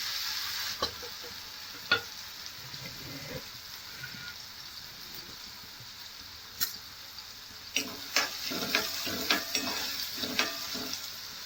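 Finely chopped onion frying in a pan for a Vidarbha-style fresh pigeon pea curry, a steady soft sizzle with scattered clicks and scrapes of stirring, growing busier toward the end, no talking.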